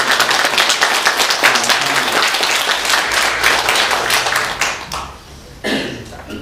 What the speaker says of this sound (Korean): 여러분들 찬양대원들한테 한번 응원과 격려의 박수를 해주시면